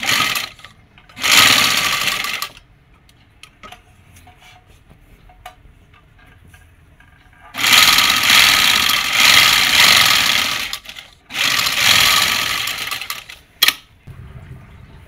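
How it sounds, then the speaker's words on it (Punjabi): A sewing machine stitches lace onto a frock in three bursts, a short one and two longer runs of fast, steady whirring, separated by quiet pauses with small clicks and handling sounds. "ਹੁਣ ਆਪਾਂ ਲਾਵਾਂਗੇ ਜੀ ਤੀਰੇ ਦੀ ਸਿਲਾਈ"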